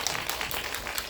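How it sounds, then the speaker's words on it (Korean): Brief applause from an audience at a film festival community event, a continuous patter of many hands clapping at moderate loudness. "박수 한번 부탁드릴게요."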